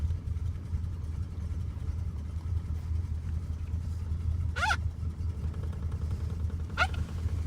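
A cold 1971 Oldsmobile Cutlass with a 350 engine idles after startup, a low, steady rumble running throughout, with two brief higher squeaky sweeps over it.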